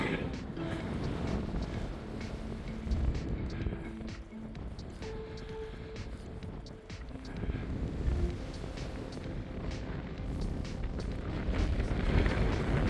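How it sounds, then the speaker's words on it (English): Strong wind buffets the microphone on a wild winter mountain summit, a steady roaring gust with rumbling bursts throughout. "wind has really picked up."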